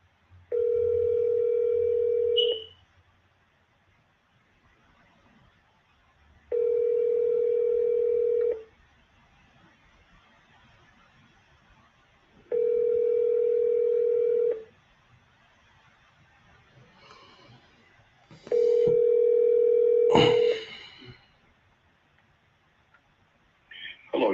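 A phone call rings out before reaching voicemail: four long ringback tones with silent gaps between them, followed by a brief click and the start of the line picking up.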